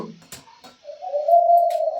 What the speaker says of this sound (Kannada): ಒಂದು ಪಕ್ಷಿ ಕೂಗಕತ್ತು ಕೇಳ್ತಿರ್ಬೋದು ನಿಮಗೆ ಸೌಂಡ್